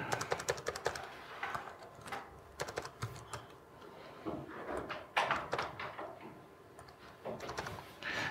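Fingers type on an American-layout computer keyboard, giving a fast, irregular run of crisp key clicks with brief pauses, close up and steady for several seconds.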